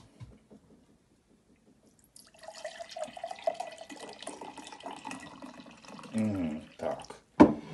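Homemade kvass pours from a bottle through a pouring cap into a mug, a liquid splash and gurgle rising after a quiet start, with a voice talking over the pour and a louder splash near the end.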